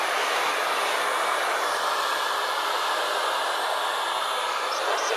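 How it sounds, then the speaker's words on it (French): A hair dryer blowing continuously at a steady, loud, close roar with no pauses. "c'est un sèche-cheveux qui opère en ce moment même sur l'expérimentation"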